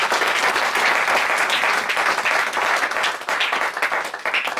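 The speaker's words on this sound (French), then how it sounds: "Donnons une acclamation au Seigneur." A church congregation claps and cheers in praise during a French-language sermon, a dense, steady wash of applause filling the room throughout, loud and continuous with no speech over it.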